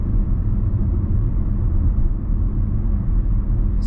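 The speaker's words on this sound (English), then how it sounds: "If you have a listen to the road noise" Steady low road rumble inside a 2022 Honda HR-V cruising at 60 km/h, a muffled continuous drone with no talking.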